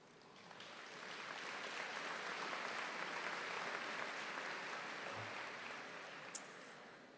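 An audience at a spring 2025 ECE commencement ceremony applauds: a broad, steady roar of many hands swelling in and tapering off, heard from a distance, with a brief thump and a sharp click near the end.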